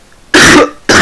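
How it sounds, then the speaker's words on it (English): A person coughs hard at close range: one long rough burst, then a second that starts near the end. No other sound is present. "oh, will this cough go away?"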